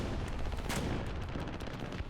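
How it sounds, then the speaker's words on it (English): A 30mm cannon fires in the War Thunder video game, a rapid dense burst of heavy booming shots rolling together over about two seconds, fairly close and loud. "I'm hitting him with a 30mm cannon"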